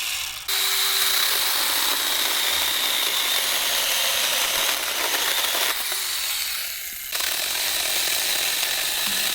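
A small cordless mini chainsaw cuts through seasoned apple hardwood, a loud, steady buzzing whine that runs almost the whole time with a brief dip near the end, close up and alone without talk.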